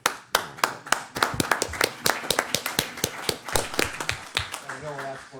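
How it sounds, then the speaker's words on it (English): A council meeting breaks into applause: a few seconds of steady clapping from the room, dense and close, fading at the end as a voice starts to speak over it. "To applaud in council."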